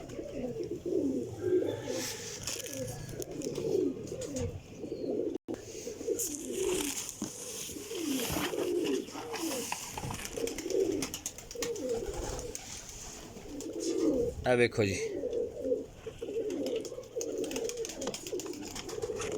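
Pigeons coo steadily in a loft of Golden and Sialkoti birds in Jhelum, layered rolling calls close by with a brief flutter of wings, while someone talks quietly over them.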